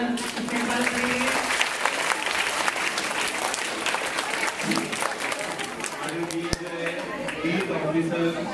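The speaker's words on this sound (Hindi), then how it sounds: "तो जरा जोरदार तालियों से उनका इस्तेमाल करेंगे।" Crowd at a school annual day event applauding loudly and continuously, a thick rush of many hands clapping with some murmured voices mixed in, one sharp tap near the end.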